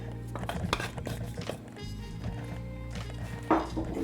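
An iron frying pan handled while cooking Ethiopian traditional food, with quiet metallic clinks, scrapes and stirring knocks in an irregular rhythm, close by and faint, with no talk.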